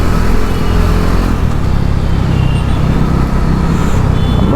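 A Bajaj NS400 Z motorcycle rides through Chennai city traffic, with a loud, steady engine drone and rumbling road and traffic noise throughout, no speech.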